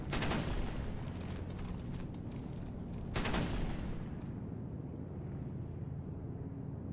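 Loud, dense bursts of 30 cal machine gun fire in the World War II shooter Brothers in Arms: Hell's Highway, with a sharper volley midway, then a heavy rumbling fusillade carrying on to the end.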